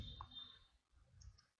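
Soft clicks of a computer mouse being double-clicked to open a file, quiet and close against a faint background hum.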